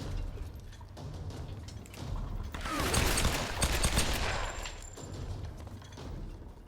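Gunfire in Tomb Raider (2013) inside a clifftop bunker, a loud burst of overlapping shots and booming reports cresting midway, set against a steady low game rumble.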